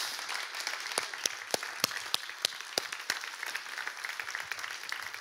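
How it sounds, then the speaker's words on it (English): A church congregation claps together in applause of thanksgiving. Dense, even clapping is broken by occasional sharper nearby claps and faint voices in the hall. "let's give an applause of thanksgiving to men and women who sacrificed"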